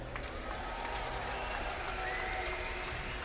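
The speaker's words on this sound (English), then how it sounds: "The crowd either likes Socke or Vikings." A crowd at a StarCraft II match cheers and applauds in a dense, steady wash of noise, with a commentator's voice faintly underneath.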